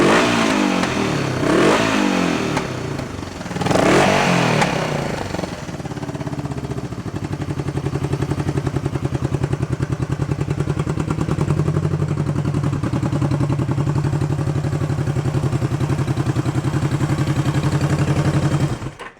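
A 1971 Honda CB350 barn-find motorcycle engine revs a few times, then settles into a steady idle with a rapid, puffing exhaust pulse from a leak between the pipes, close and fairly loud throughout.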